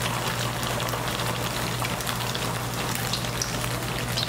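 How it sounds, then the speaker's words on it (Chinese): Tofu pieces shallow-fry in a small amount of hot oil over medium heat, giving a loud, dense, continuous sizzle and crackle close up, with no speech. "所以可以很安心很放心的炸豆腐。"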